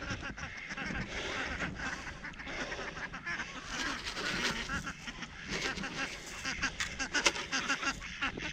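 A flock of Indian runner ducks quacking and honking continuously in a noisy, busy chorus, close by, with some voices mixed underneath.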